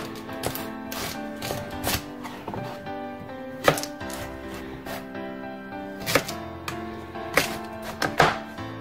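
A knife chops a carrot into cubes on a cutting board for a young-cabbage minestrone soup, making a run of irregular, close wooden thunks and taps with short pauses between bursts.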